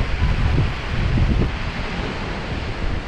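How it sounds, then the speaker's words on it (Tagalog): Strong sea waves crash and surge into a coastal rock cave in Australia. The result is a continuous, loud roar of churning water with low rumbling booms, mixed with wind buffeting the microphone and no voices. "Pag pumapasok yung malakas na alon doon."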